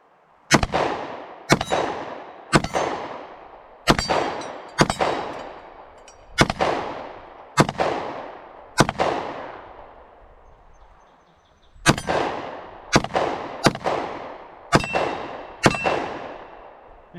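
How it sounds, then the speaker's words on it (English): Taurus GX4 Carry pistol shooting at steel targets outdoors: about fourteen loud, sharp shots with ringing clangs in two quick strings split by a short pause, each decaying quickly, with no talking. "let's fire off these last two mags and tell you what we think of it"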